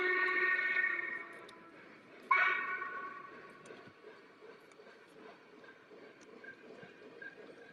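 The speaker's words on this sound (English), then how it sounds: "We got the war train out. Here it comes right now." Train passing on a rail line, a loud rumbling approach with a sharp surge midway, then settling into a fainter steady roll with distant clatter; a dog barks faintly in the background.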